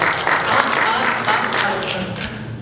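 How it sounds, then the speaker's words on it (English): A round of audience applause at an interfaith forum panel discussion, many hands clapping in a full, even wash that swells briefly and then holds steady before easing slightly at the end. "We're going to wait for the applause for everybody, one more round of it"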